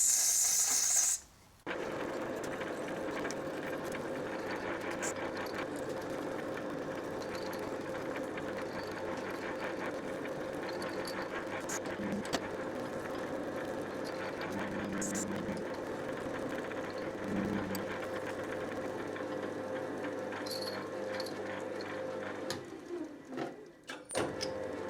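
A 7.8mm hole is drilled into the spindle of a Quorn Mk3 tool grinder, sized for later reaming. Machine noise runs as a steady, even drone for nearly the whole stretch, with no talking.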